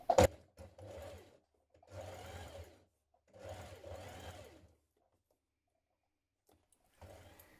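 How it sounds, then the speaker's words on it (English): A sewing machine stitches around the front and back neck opening of a shirt in several bursts of steady whirring, each lasting about a second, separated by short pauses. "Now stitch around your front neck opening and around the back neck."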